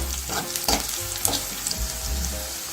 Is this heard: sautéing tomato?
yes